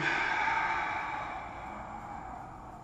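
A deep, breathy exhale during karate stretching, close and soft, fading gradually over a few seconds.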